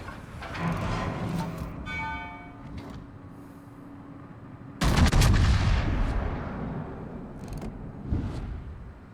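A battleship's main turret guns fire salvos in a naval combat video game, heavy booming blasts with a sharp loud report midway, rumbling decay and smaller shots around it.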